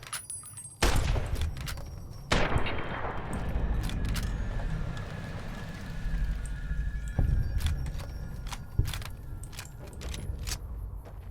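Fallout: New Vegas gunfire: several sharp, loud shots ring out at irregular intervals, each with a decaying echo, and scattered clicks and clinks fall between them.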